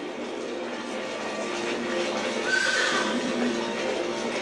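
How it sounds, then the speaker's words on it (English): Horse clip-clop hoofbeats faked by banging coconuts together, with a horse neighing in a radio-drama style scene, heard as steady rhythmic clopping over a busy, noisy background. "you can hear the horse clopping"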